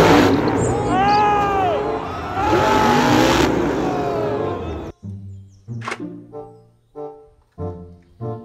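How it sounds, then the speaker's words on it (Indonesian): A toy monster truck engine revs loudly for about five seconds with a busy, whining buzz, then cuts to short separate bursts of sound with pauses between them. "Mobil truk monster."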